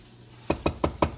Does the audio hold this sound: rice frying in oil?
yes